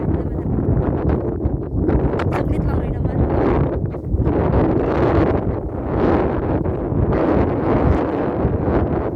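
Steady wind buffets the microphone in a constant roar, with a person talking briefly over it.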